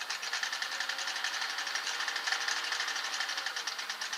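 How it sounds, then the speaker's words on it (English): A Singer Model 503A sewing machine runs steadily with its zigzag cam turning, giving a fast, even mechanical whir and rapid rhythmic clatter, close and alone without voices. "Put it back to zigzag. You see the swing arm and the cam."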